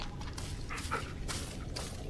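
A faint dog whimpers softly a few times over a dim, rumbling background in the Blair Witch horror video game, with brief thin whines that rise and fade.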